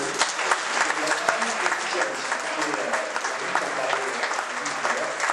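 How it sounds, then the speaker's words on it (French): A seated audience at a debate event breaks into applause, a dense and even roar of many hands clapping at close range, sustained at steady loudness throughout with no pause. "Allez, on l'applaudit."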